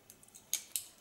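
Scissors snip through hair at a salon, two crisp close snips with faint lighter clicks before them, quiet and isolated with no talking.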